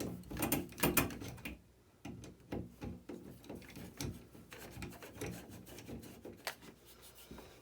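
A new mounting plate being fastened to an electrical box for a vanity light, with close rubbing, scraping and light knocking handling sounds in irregular bursts.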